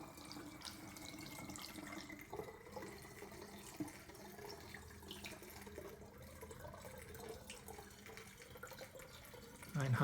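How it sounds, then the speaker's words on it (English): Water runs steadily into a Sparklets Hostmaster 2 soda siphon bottle, a continuous close-up trickling and gurgling that rises slightly in pitch as it fills. "So, as per usual, you fill it up with water,"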